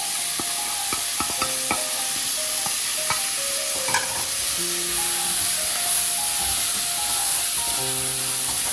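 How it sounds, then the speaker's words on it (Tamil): Chili powder is stirred into a mango curry in a pan, with a loud continuous sizzle and hiss and repeated scraping strokes of a spoon. Clinks sound against the pan throughout, close by, with no voices. "மிளகாத்தூள் ஆட் பண்ணிட்டு கொஞ்சம் கிளறி விடுவோம்"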